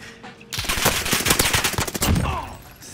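Rapid automatic gunfire in the video game Warzone bursts out after a brief quiet start, loud, dense rattling shots sustained for about two seconds before tapering off.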